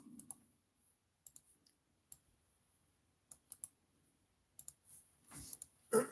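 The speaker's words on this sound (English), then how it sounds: "Let's clear the names and start typing." Computer keyboard typing in a quiet room, with scattered bursts of sharp key clicks separated by pauses, close and fairly faint.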